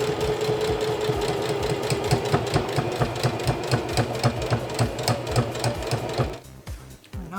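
A sewing machine stitches bias tape onto a fabric face covering, running in a steady, close, loud mechanical rattle with rapid needle thumps, then slowing and quieting near the end.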